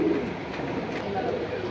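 Pigeons coo steadily at a busy pigeon market in Jinjira Bazar, a soft, continuous background murmur of birds with crowd noise mixed in.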